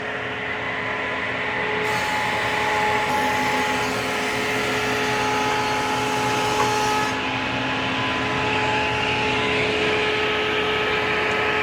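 A thickness planer runs through rough cut lumber with a loud, steady whining roar, and the cutting noise thickens for several seconds in the middle as the board feeds under the cutters.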